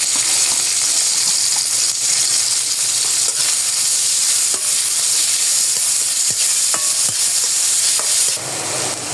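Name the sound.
chopped onion frying in mustard oil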